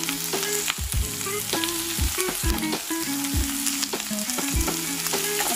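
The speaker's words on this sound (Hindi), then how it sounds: "उसको भी थोड़ा सा मिक्स कर लेंगे, थोड़ा सा फ्राई कर लेंगे" Chopped carrots fry and get stirred in a pan for Indian-style masala pasta, a constant sizzle punctuated by frequent close spatula knocks and scrapes in an irregular rhythm, with nobody speaking.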